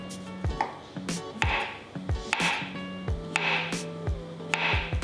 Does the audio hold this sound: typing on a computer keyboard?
no